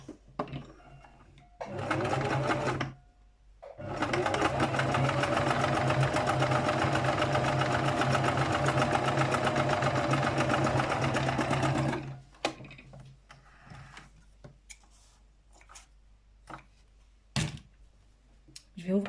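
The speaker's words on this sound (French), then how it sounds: "Et je couds ce côté." A sewing machine stitching fabric for a girl's hat, running in a short burst and then a long steady whirring run of about eight seconds, close and loud, with quiet handling clicks before and after.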